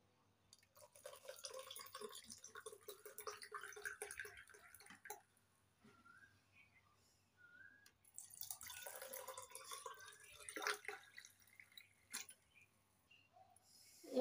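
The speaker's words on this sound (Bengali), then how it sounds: "এখন দিয়ে দিচ্ছি ঠান্ডা জল।" Cold water is poured into a mango panna drink, making faint, soft trickling and splashing in two stretches with a short quiet pause between them.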